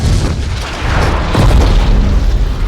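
A loud, sustained explosion from the animated film The Incredibles rumbles with deep booming low end and a dense roar that swells midway and lingers without letting up.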